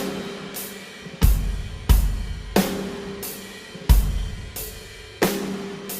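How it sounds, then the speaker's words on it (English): A live drum track plays in a slow groove, with a layered snare and its long reverb tail mixed over it, so each deep kick and bright snare hit blooms into a lingering wash that fades before the next strike. "we actually kept some of the reverb tail and the snare and mixed that in over the live drum track"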